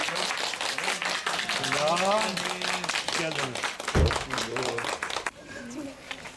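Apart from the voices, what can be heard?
people clapping and applauding a welcome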